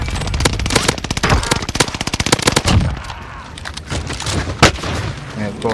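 Rapid automatic gunfire in PUBG Mobile, a loud fast burst of shots followed by sporadic heavier single shots and booms, close and punchy.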